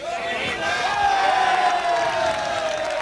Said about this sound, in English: As you can hear, the very, very large crowd here urging the North Midlands on.